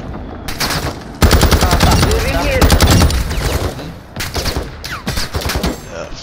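Rapid automatic gunfire from the video game DMZ: loud, dense bursts fired in quick succession, then shorter scattered shots, with voices of players around them.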